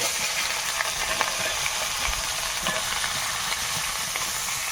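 Cauliflower and potato frying in oil with whole cumin and ginger make a steady, loud, close sizzle and hiss, broken by light stirring scrapes throughout.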